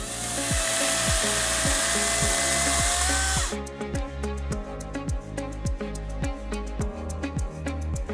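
A Cobra CS35040VX battery chainsaw whines at high speed, then drops to a lower, choppier buzz with rapid rhythmic clicking, close and steady.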